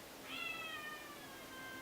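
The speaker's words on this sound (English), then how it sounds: "if you can hear Felix meowing" A cat meows once in another room: a faint, distant, drawn-out call over a quiet background.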